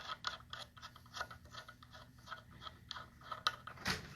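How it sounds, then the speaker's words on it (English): Gimbal pivot unscrewed by hand after loosening with an Allen wrench, giving a quiet run of small clicks and ticks at a steady, ratchet-like rhythm, faint and close with no talk. "And now I can use my hand to unscrew it."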